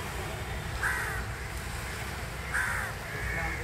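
Crows cawing around the harbour at Fort Kochi, India, a few separate harsh caws spaced apart and heard at moderate distance over a steady outdoor background hum.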